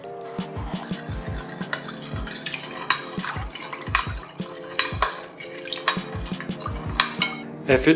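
Salt is stirred into water in a bowl while mixing Italian-style pizza dough at home, with repeated clinks and scrapes of a utensil against the bowl and light splashing, close and continuous with no talk.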